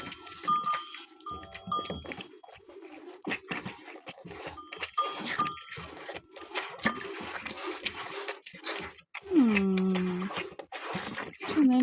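Calf and other farm animals in a Kastamonu village barnyard, with loud bleating and lowing calls rising near the end, mixed with other animal sounds and someone talking nearby.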